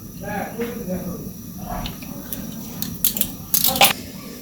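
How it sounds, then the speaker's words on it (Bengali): Oil is added to a kadai while cooking a village-style bora, giving brief hissing sizzle bursts that rise toward the end over faint background noise, with a voice in the background. "কড়াইয়ে তেল দিয়ে দিই।"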